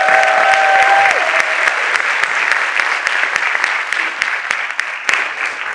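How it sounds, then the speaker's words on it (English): Loud, sustained applause fills the room at the Canadian Caribbean Association of Halton's 2023 Black History Month kickoff celebration, a crowd clapping steadily throughout with individual claps standing out and a brief tonal whine near the start. "Round of applause for us."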